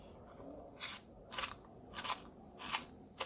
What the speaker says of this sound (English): you use this hole here to sharpen the pencil